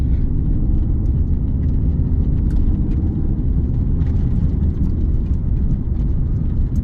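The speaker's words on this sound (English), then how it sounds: "Picking up a lot of rocks and little debris on this road, so that's what the little noise is that you hear" Small rocks and road debris kicked up under a 2020 Mercedes-AMG GT R, a light ticking and pattering over a steady, loud low rumble of the car driving along the road.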